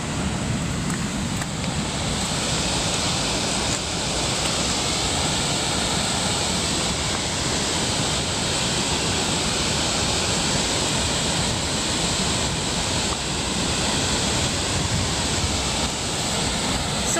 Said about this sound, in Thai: น้ำตกสวยๆ